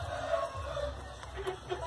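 A young fighting rooster, still a cockerel, gives soft, quiet clucks at intervals against a low farmyard background hum.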